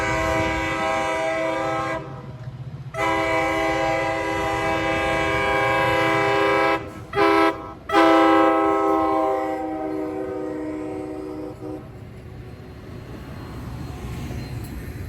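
A commuter train led by cab car 795 sounds its squeaky K5LA horn in several loud, reedy blasts with short breaks between them while the cars rumble past a railroad crossing near a station.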